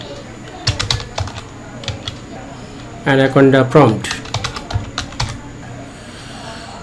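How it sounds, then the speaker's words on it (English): Clicky keystrokes on a desktop computer keyboard come in short bursts, with one dense rapid flurry near the middle, close and distinct, while someone briefly speaks. "In desktop search box I am typing Anaconda"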